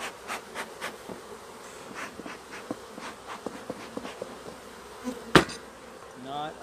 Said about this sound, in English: Not a good beekeeping day for Matt